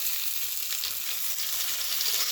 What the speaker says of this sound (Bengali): এবার দিয়ে দেবো কেটে রাখা টমেটো